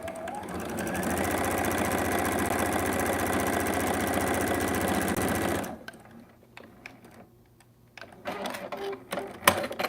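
A sewing machine runs steadily and loudly for about five and a half seconds while stitching through fabric scraps, then stops abruptly, leaving quieter scattered clicks and handling noises.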